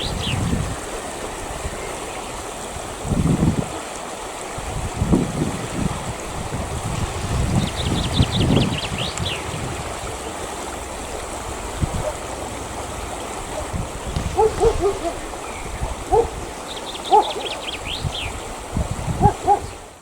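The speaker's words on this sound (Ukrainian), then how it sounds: "так річечка шумить" A small river stream babbles steadily in the open air, with birds chirping now and then and occasional wind buffets against the microphone.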